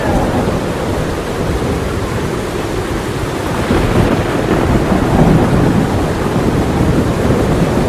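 Heavy thunderstorm in a cartoon: a dense, steady roar of pouring rain with rumbling thunder underneath, swelling louder about halfway through and staying intense, with no voices.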